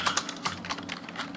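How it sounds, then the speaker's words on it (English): Quick bursts of keystrokes on a computer keyboard, a close run of light clicks and taps in an irregular rhythm, no voices. "So I'll just type out"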